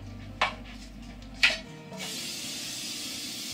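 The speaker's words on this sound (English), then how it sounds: "Spray it all in that pan." Cooking spray aerosol spritzed into a cake pan: two short, sharp hissing bursts about a second apart, then a steadier soft hiss, fairly quiet and close.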